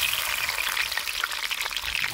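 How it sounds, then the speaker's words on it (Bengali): Bitter gourd slices fry in hot oil in a wok on a home stove, giving a steady, close, bright sizzle with fine crackling throughout and no voices. "আমি এবার উচ্ছেগুলো দিয়ে ভেজে নেব"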